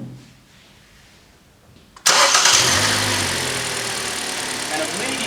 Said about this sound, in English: So we'll start the engine.